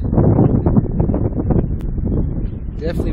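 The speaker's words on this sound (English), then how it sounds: "Definitely windy and cool up here" Steady wind on Golondrina Mesa in the Santa Fe National Forest buffets the microphone with a low, continuous roar, and a voice talks underneath it throughout.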